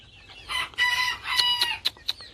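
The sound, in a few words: rooster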